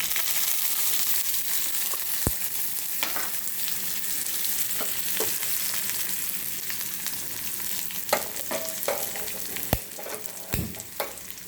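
Onion frying in hot oil in a kadhai after mustard seeds and cumin, a dense continuous sizzle and crackle with occasional spoon scrapes and knocks, close up with no talk.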